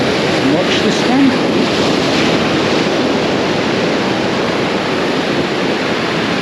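A decent-sized ocean wave rolls in and breaks against rocks along a sandy stretch of rocky shoreline, producing a loud, continuous roaring wash of surf close by, with wind buffeting the microphone.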